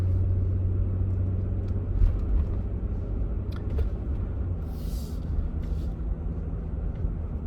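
A 2022 Toyota Tundra engine runs steadily after a cold start on a 51-degree morning, a continuous low rumble heard close up with no talking.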